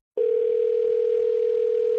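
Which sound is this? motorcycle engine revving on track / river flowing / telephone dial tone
telephone dial tone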